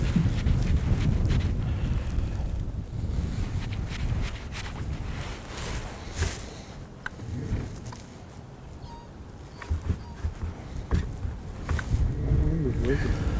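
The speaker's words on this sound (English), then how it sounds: "That wind is really starting to be a pain." Gusty wind buffets the microphone outdoors on a fishing trip, rumbling and fluctuating in strength, with someone speaking briefly over it.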